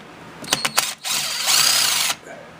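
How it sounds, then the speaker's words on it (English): A 1/4 inch ratchet tightens carb boot bolts on a Ski-Doo MXZ X 440 snowmobile, giving a few quick clicks followed by a steady, close, loud ratcheting whir, with no speech. "tighten them down with a 1/4 inch ratchet"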